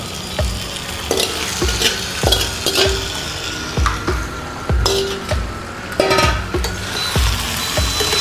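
Squid, marinated for an hour and a half for squid masala, sizzles loudly in a hot pan as a utensil scrapes and stirs it in a steady rhythm, close up with no talking.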